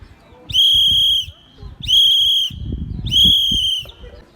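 Three sustained, piercing Morse code whistle blasts in a steady row, each about half a second long, over faint low background rumble.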